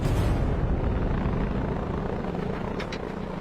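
Aircraft approaching during the 1941 Japanese attack on Pearl Harbor, a loud continuous roaring drone of engines with broadband rumble that eases slightly toward the end, no voices heard.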